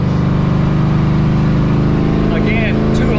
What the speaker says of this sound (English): Now if you do a kick down right here, it just sounds like this.